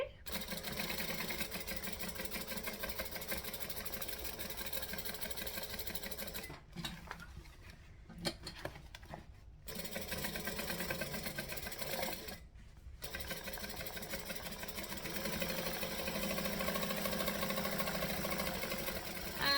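A sewing machine runs steadily while stitching fabric, buzzing at close range for long stretches with two short pauses, then starting up again. Someone speaks over the machine noise.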